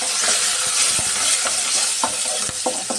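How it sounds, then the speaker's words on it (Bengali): Raw onion pieces with cardamom and chilies sizzle and hiss steadily in hot oil in a pan, with scattered clinks of a stirring spoon, loud and close throughout, for a Bengali fish curry with pumpkin lentil dumplings. "ভালো করে পেঁয়াজটা ভেজে নেব।"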